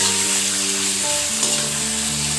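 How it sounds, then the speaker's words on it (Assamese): Pork sizzles loudly with onions in a pan, a dense steady frying hiss close up with a faint low hum underneath and no speech. "এতিয়া মই মাংসখিনি দি দিছোঁ এইখিনি ভালকৈ অলপ ভাজি ল'ম"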